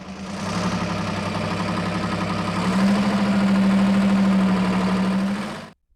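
A Detroit Diesel 6V53 two-stroke V6 military engine runs loud and close, its steady rough drone holding a strong low hum that grows heavier midway before the sound cuts off abruptly.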